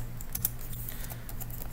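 Rapid typing on a computer keyboard, a light steady patter of key clicks over a low electrical hum.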